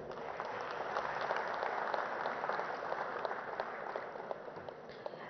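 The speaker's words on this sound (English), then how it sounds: "One round of applause, please." Steady applause from an audience at a business awards ceremony as an award is presented, many hands clapping evenly at a moderate distance, slightly muffled, with no voices over it.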